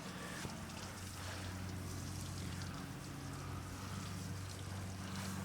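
A water rinse sprays into a muddy car's wheel wells during a wash, a faint, steady hiss that runs continuously at a distance under a low background hum.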